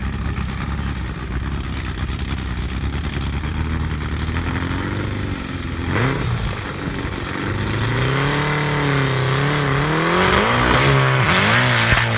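Drag race car launching down the strip at a 2018 SCSDA season-opener elimination round: a loud, steady engine drone swells into rising, sweeping revs as the car accelerates away, with no talking.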